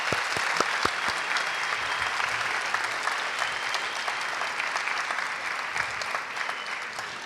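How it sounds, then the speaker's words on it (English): An auditorium audience at a spring ELL student debate breaks into sustained applause, with sharp, distinct claps at the start settling into a dense, even roar of clapping that carries on alone throughout. "Let's give them one round of applause."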